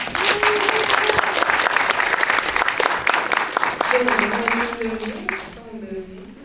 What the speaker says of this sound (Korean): 떨지 마시라고 박수 한번 부탁드릴게요.